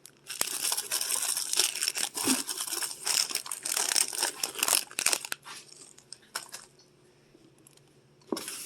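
Plastic snack packets being stuffed into a lunch bag, a loud close run of crinkling and crushing for about five seconds, then near quiet with a few faint rustles and a last crinkle.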